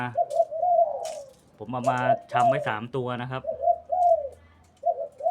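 A mid-voiced single-coo dove gives smooth, repeated coos close by, in short phrases at the start and end with a pause between, while someone talks over the middle stretch.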